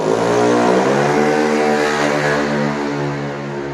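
A motorcycle with its baffles removed revs hard and very loud, a sustained rasping engine roar held close for the whole stretch and easing slightly toward the end.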